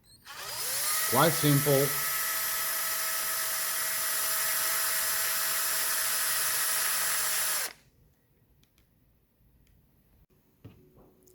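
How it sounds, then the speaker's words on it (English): A power drill boring a hole in a kart chassis, loud and close with a steady high whine for several seconds that stops abruptly, followed by a brief spoken remark. "So you have to drill your own hole in the chassis."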